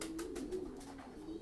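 An American giant pigeon coos softly in a steady, low, repeated rhythm over a faint background hum, with no voices present.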